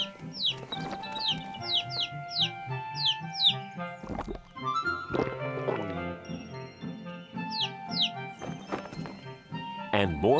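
Cartoon chickens clucking in an animated Bible creation story, short repeated clucks and chirps mixed over a busy musical score with other animal calls, fairly loud throughout.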